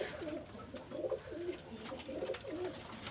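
Pigeons of an imported flying bloodline coo close by, a series of soft rolling calls repeating in a steady rhythm alone against a quiet background.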